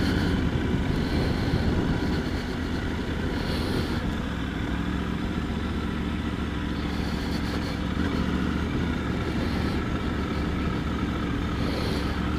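A Triumph Tiger 900 GT Pro motorcycle with an 888 cc engine rides along open roads and through roundabouts, giving a steady, close engine drone mixed with continuous wind rush and no speech.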